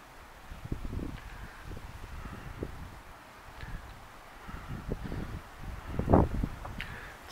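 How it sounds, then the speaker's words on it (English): Gusty wind buffets the microphone in low rumbling bursts outdoors beside a parabolic solar fire starter, with a louder gust near the end and faint rustling. "see how windy it is?"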